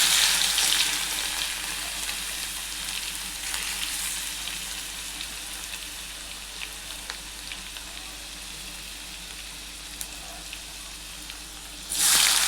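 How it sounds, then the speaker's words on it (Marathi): Asafoetida and crushed garlic sizzle steadily in hot oil for a Gujarati dal dhokli tempering, a close, continuous bright hiss with small pops, ending in a louder burst of crackle. "थोडंसं हिंग, आणि हा ठेचलेला लसूण"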